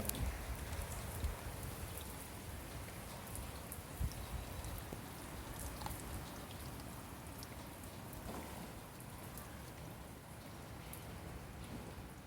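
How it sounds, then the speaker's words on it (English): Steady, dense storm rain pours down without pause, a constant hiss of drops with a few louder spatters, and no voices. "So you can see the rain coming in over here."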